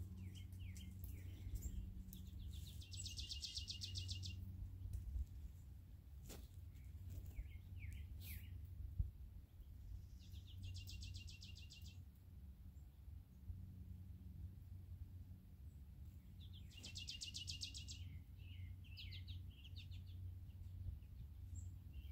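Birds chirp and trill in short repeated bursts, faint and somewhat distant, over a low steady rumble, with no one talking.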